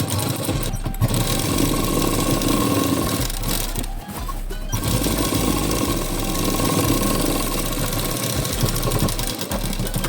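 Sewing machine stitching the sleeve onto a blouse, running steadily and loudly close by for the full length with a continuous mechanical hum and rapid ticking, pausing briefly once near the middle.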